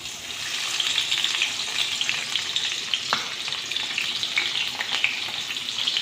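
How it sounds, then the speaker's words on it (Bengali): Chopped onions crackle and hiss in hot oil, a dense steady sizzle that continues unbroken and close by, with no talking. "তেলটা গরম হয়ে গেছে এ অবস্থায় পেঁয়াজ দিব"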